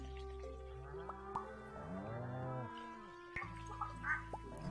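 A cartoonish moo from a cow in the farming game Stardew Valley rises and falls as the animal is milked, clear and up close, with short plopping drips and faint game sounds around it.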